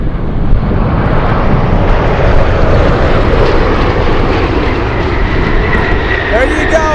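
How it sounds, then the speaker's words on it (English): A large cargo airplane lands on runway 15 at Anchorage in gusty wind, its engines a loud, steady broadband roar with wind buffeting the microphone throughout. "Let's go for the first arrival. It's over here. It's landing."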